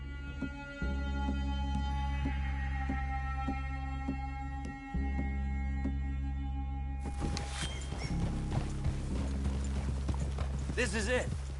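Horses walking with steady clip-clop hooves and an occasional whinny in the video game Red Dead Redemption 2, under ambient forest sound and a voice speaking, with a busier burst of noise near the end.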